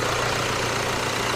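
A 2019 Jaguar E-Pace's 2-liter diesel engine idles in a steady, low, even rumble, heard close and continuous with no other sounds.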